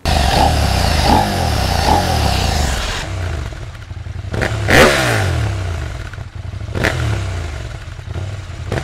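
A Husqvarna Norden 901 motorcycle engine catches with a short whirring crank and settles into a loud, close, throbbing idle, broken by a few sharp blips of revving and some mechanical clatter.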